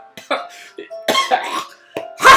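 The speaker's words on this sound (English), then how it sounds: "Oh god, they've all got weird coughs now." Several short, odd coughs from characters in the visual novel game Doki Doki Literature Club, coming in separate bursts with short gaps between them and the last one the loudest.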